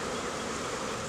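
A swarm of honey bees being rescued and smoked back into a box makes a dense, steady, close buzzing that fills the whole moment without pause or speech.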